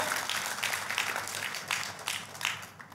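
A church congregation clapping during a sermon, a steady wash of applause with rhythmic bursts of hand claps, moderately loud and sustained before tapering off.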